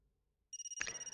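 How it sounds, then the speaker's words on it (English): A phone ringtone sounds inside a house, breaking a near-silence with a steady, rapidly pulsing electronic tone that carries on without a pause. "a familiar ringtone echoes through the house"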